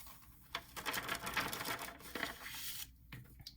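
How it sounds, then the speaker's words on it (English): Excess embossing powder tapped back into its container, a faint run of quick light taps and rattling grains, close and quiet, no talk. "let's tap our excess back in so I don't blow my powder all over the place"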